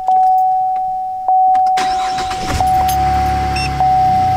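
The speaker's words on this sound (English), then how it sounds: "once you turn your car on" A pickup truck's engine cranks and catches into a loud idle after a steady electronic beep from a Cammus digital gauge, with a few clicks beforehand and no talking.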